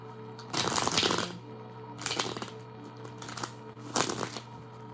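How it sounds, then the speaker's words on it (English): Three quick bursts of tarot cards being riffled and shuffled, close up, separated by short pauses. "Get a good shuffle in."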